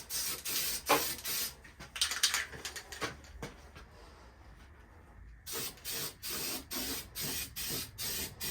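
Tractor paint spraying onto the interior of a Honda S2000, rhythmic bursts of aerosol hiss with a quieter pause midway, close and loud.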